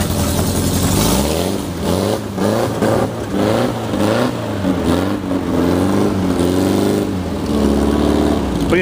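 A rebuilt Mini-T dune buggy on slick tires revs up close in wet grass, its engine surging and falling repeatedly in loud uneven bursts as the wheels spin.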